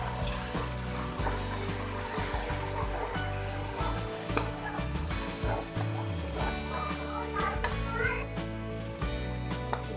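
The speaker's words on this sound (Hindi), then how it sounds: "अब हम इसमें प्याज का पेस्ट डालेंगे" Onion paste frying in golden-brown ginger-garlic paste for a pumpkin kofta gravy, with a loud, dense sizzle and stirring close up and background noise around it.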